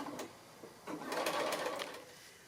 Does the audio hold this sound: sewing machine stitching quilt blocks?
yes